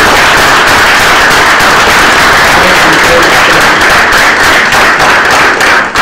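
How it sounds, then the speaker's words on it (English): Loud, dense and continuous applause from a large campus audience at Colorado State University, a sustained roar of many clapping hands for a guest speaker, fading slightly at the very end. "Ladies and gentlemen, please give Bomani Jones a round of applause."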